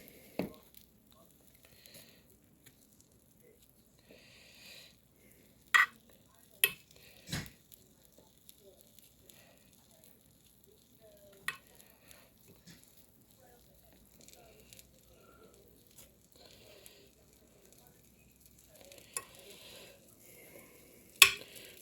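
A utensil scrapes and stirs through food in a pan to coat it in butter, giving soft intermittent clinks and scrapes with a few sharper knocks over faint background sizzle.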